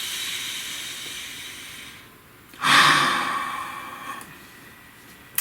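A slow, deep breath is drawn in, then a loud, breathy exhale swells up and fades, heard close and alone.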